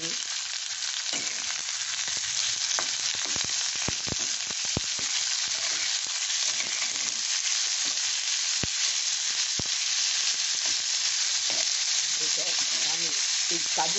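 Chopped garlic fries in a pan with a loud, dense, continuous hiss and crackle. Scattered clicks and stirring scrapes sound close by across the whole stretch.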